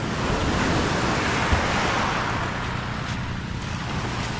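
Steady rushing surf fills the air, a broad continuous wash of waves with wind noise on a beach, loud and unbroken throughout.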